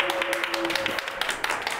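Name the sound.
audience applause welcoming a speaker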